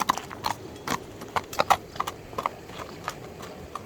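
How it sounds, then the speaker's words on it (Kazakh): A horse walking, its hooves clip-clopping in a steady, unhurried rhythm of sharp knocks on hard ground, close and clear, with little else around. "Атты бастыралы, көрөлү туугандар."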